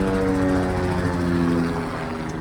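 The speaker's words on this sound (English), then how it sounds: "We have a military base here and there's a helicopter coming through." A military helicopter passes overhead, its steady low rotor and engine drone loud and continuous from start to finish, with no voices over it.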